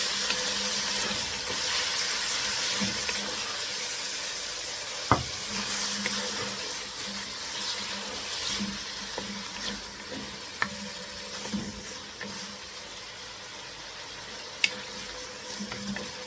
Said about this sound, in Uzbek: 3 dona kichkina pomidor. Bularni ham solib qo'rib olamiz.